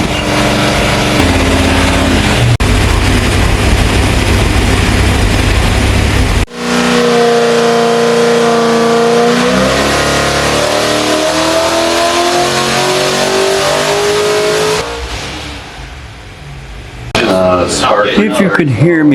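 A Chevy 408 engine runs on a dyno, loud and close, idling roughly then revving up through sustained climbs with a brief drop before rising again; people talk over it.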